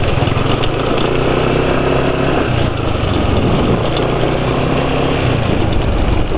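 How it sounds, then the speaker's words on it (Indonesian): A motorcycle engine running on Mazola corn oil as its engine oil idles steadily and fairly loudly up close, a continuous rough, low mechanical rumble with no talking. "Ini suara mesin"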